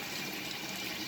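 Hot water pours steadily into the tub of a 1966 Frigidaire Rollermatic washing machine, a continuous rushing fill that stays even and moderately close throughout, with no talking.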